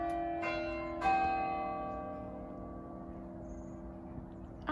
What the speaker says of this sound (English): As the bells chime